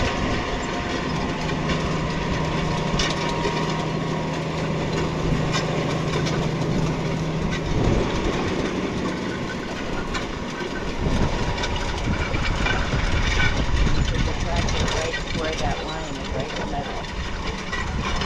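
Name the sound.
new tractor running while planting soybeans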